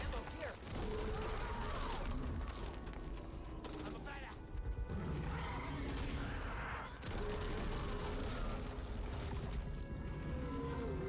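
Dense gunfire from the co-op zombie shooter Back 4 Blood on Nightmare difficulty, continuous volleys and bursts mixed with game effects throughout, loud and busy with a voice talking over it.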